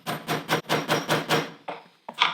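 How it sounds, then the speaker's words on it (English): A series of firm, evenly spaced hammer blows strikes a small metal tube hole punch, about eight hits in a steady rhythm with a short pause near the end. "I think you can just hammer."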